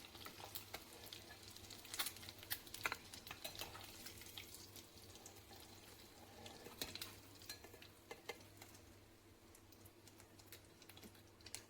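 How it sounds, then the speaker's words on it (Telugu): Boiled eggs frying in hot oil until golden for an egg and drumstick cashew curry, with a faint steady sizzle and occasional light stirring clicks and scrapes, quiet and close throughout with no talking. "బాయిల్డ్ ఎగ్స్ గోల్డెన్ కలర్ వచ్చే వరకు ఇలాగే వేయించుకొని"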